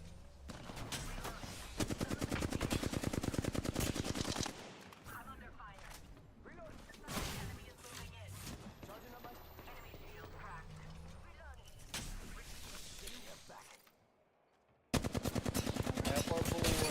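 Rapid automatic gunfire in the battle royale game Apex Legends, long dense bursts at the start and end with scattered shots and effects between, while a player talks over the action.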